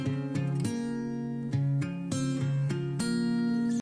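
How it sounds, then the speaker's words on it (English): Four stacked guitar takes, two of them doubled parts, play chords together in a steady rhythm, with loud, bright strums changing every half second or so and no talking over them. "I have 4 takes of guitars, with 2 of them being the same thing."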